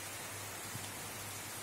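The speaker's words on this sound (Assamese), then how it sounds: "এয়া বাহিৰত বৰষুণ পৰি আছে" Rain falls outside at midday as a steady, faint, even hiss of drops that holds for under two seconds, with no voices.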